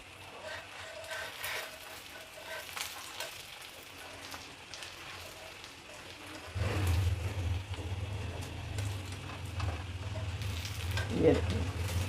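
Radish paratha fries in ghee on a pan with a soft, continuous sizzle. A low hum joins partway through and stays to the end.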